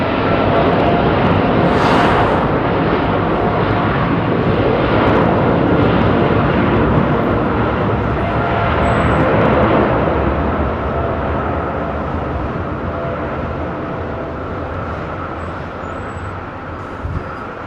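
An ex-KLM Boeing 747 Combi converted to a freighter takes off at London Heathrow. Its engines give a loud, sustained roar that swells and then slowly fades as the aircraft departs, heard without any voices.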